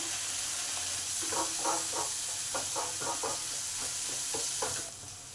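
Turmeric and chili powder sizzle in a pan of oil over low-to-medium heat, a constant close hiss broken by a series of soft scraping stirs, and it quiets near the end.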